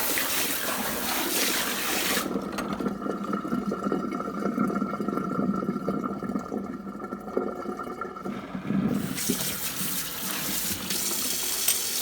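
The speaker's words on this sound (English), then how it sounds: "So let me empty out this water." Water emptied into a sink during a Hoover Junior Dirtsearcher refurbishment, a steady splashing gush from a tap lasting the whole time, strongest at start and end with a softer, duller stretch in the middle.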